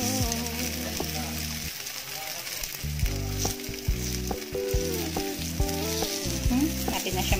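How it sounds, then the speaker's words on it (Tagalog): Takoyaki balls frying in a hot takoyaki pan, giving a steady close sizzle that runs continuously under louder background music with no one talking. "malapit na maluto ang ating takoyaki"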